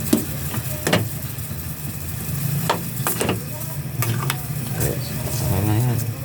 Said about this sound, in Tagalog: haluan na lang namin ng nilagang broccoli